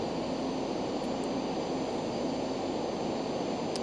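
Jet engines of a Cessna Citation C525 in a flight simulator, a steady loud broadband roar with a faint whine on top, holding constant as the aircraft climbs under added power.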